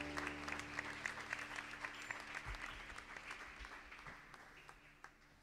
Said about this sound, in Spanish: Demos un fuerte aplauso al coro también